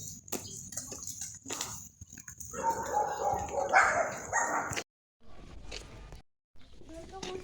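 Dog barking outdoors while a family heads off to school in the morning, a few sharp barks at mid distance mixed with people talking and footsteps.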